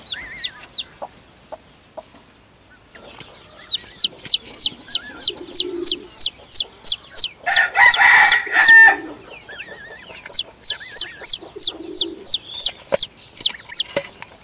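Chickens cluck loudly and close by in fast, regular bursts of sharp calls, broken midway by a louder, longer squawking outburst, then the steady clucking resumes.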